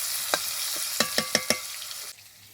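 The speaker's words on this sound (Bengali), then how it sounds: "পেঁয়াজটা এদিকে ভাজা হতে থাক" Chopped onions fry in a pan for stuffed pointed gourd, potoler dorma; a soft continuous sizzle carries a quick run of five or six sharp utensil knocks before the sound drops to a quieter hiss.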